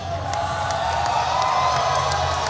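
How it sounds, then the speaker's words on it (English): Crowd at a Karate Combat event cheering and whooping, a dense continuous roar with scattered sharp shouts rising above it throughout. "Now the crowd very appreciative"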